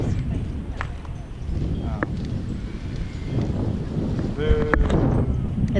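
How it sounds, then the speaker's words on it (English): Wind buffets the microphone with a steady low roar, while people talk in the background. "It's too windy today."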